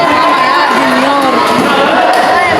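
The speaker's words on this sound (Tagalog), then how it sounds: "Ang ingay ng crowd." A loud crowd roars and chatters at a barangay basketball game, a dense wash of voices with a brief slam, while a commentator talks over it.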